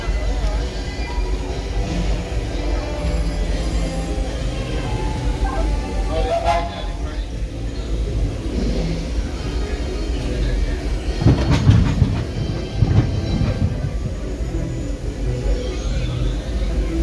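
The Disneyland Railroad train rolls steadily along the tracks with a constant loud rumble and occasional clacks and squeaks, heard from on board.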